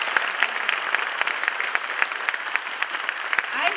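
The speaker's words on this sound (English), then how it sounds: "Let's give a big round of applause to the VR-59 team that opened up their hangar to us and their commander" Crowd applause in a Navy hangar at NAS Fort Worth for the VR-59 team and their commander, a steady wash of many hands clapping with sharp individual claps popping out, fairly close and loud, no talk.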